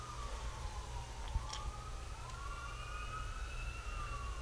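An emergency vehicle siren, police, fire engine or ambulance, wails outside with rising and falling tones, distant and faint over a low background rumble.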